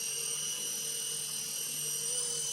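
An RC Era C189 radio-controlled helicopter flies nearby, giving a steady high-pitched whine from its motor and spinning rotors, constant and unbroken throughout, with no talk.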